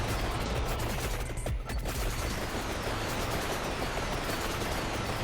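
Level-five bird weapons in the Vampire Survivors game unleash a loud, unbroken barrage of rapid shots that carpets the whole stretch, dipping only briefly near the middle.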